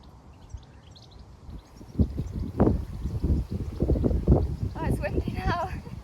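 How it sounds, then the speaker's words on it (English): Gusty wind outdoors on a summer foraging hike near a swimming spot, a low buffeting rumble that swells and rolls against the microphone, with birdsong faintly in the background. "Oh, it's windy now."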